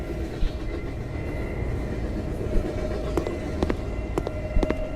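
A train rumbles past in the A Dark Place 2 game, a steady rolling rail drone with several sharp metallic clanks and clicks scattered through it.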